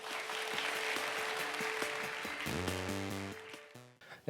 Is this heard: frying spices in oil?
no